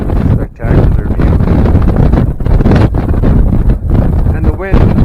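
Strong gusts of wind buffet the microphone on a mountain hiking trail to Landslide Lake near Wild Horse Creek. The roar is loud and continuous with brief lulls, and a voice is faintly present underneath.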